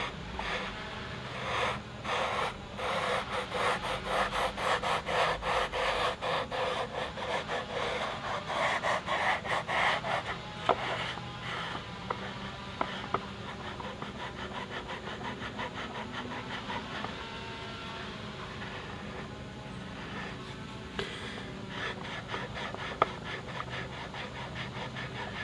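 A screwdriver scrapes old foam edging off a speaker cone softened with rubbing alcohol, giving rapid rough rasping strokes close up, busier early and then sparser with scattered scrapes.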